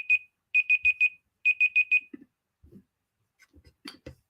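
Electronic game timer alarm beeping in two quick bursts of four shrill tones each, loud and close, followed by a few scattered soft knocks and clicks.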